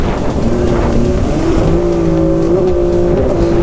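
A stand-up jet ski engine at full throttle roars loud and close with a steady, high droning whine that shifts pitch slightly during a buoy cornering run, and no talking is heard.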